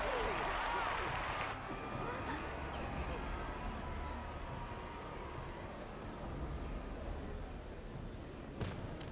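A crowd cheers and applauds through a Final Fantasy XIV: Dawntrail cutscene, a dense, steady roar of many voices that swells loudest at the start, with a low rumble underneath and a voice speaking over it.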